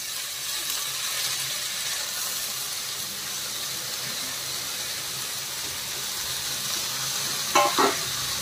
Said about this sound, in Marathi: पालक ऍड करून झाल्यानंतर छान भाजी हलवून घ्यायची.